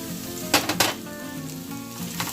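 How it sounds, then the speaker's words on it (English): Onions sizzle loudly in oil in a non-stick pan, close and steady, with two quick bursts of scraping as they are stirred around. "So we're going to put every single onion in here."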